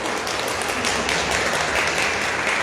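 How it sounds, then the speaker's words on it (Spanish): A worship congregation applauds loudly for Jesus, a thick, continuous burst of clapping hands that holds steady and close for a couple of seconds, with no voices on top. "Vamos a darle un aplauso fortísimo a Jesús"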